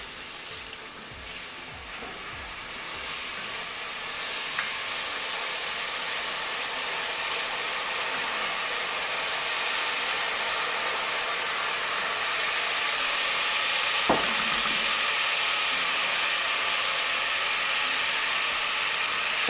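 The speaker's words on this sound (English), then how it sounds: "We're going to add about half a cup of water." Water poured into a hot pan of caramelized onions and cinnamon for oxtail stew hisses and sizzles with steam, a loud, continuous broadband fizz that holds steady, with a few small clicks and taps.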